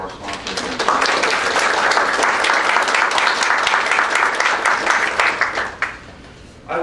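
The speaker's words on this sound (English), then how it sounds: "So please join me in a quick round of applause for our sponsors." An audience at a literature panel event breaks into a loud, dense round of clapping that holds steady for about five seconds, then quickly tapers off and stops.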